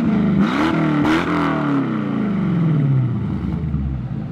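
A powerful Corvette V8 sports car engine rumbles loudly and steadily, its exhaust note rising and falling with revs before settling into a deep idle.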